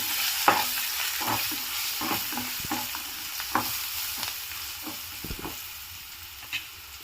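Spices sizzle in a hot pan as coriander powder, cumin powder and salt are stirred with a utensil for Chinese-style Yippee instant noodles, with steady frying hiss and repeated scraping strokes close by.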